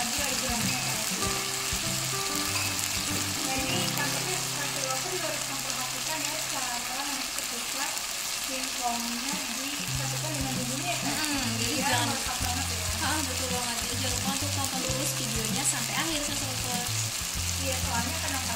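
Ground spice paste for spicy cassava chips fries in oil in a pan, giving a steady, loud sizzle with intermittent stirring scrapes throughout and no voices over it.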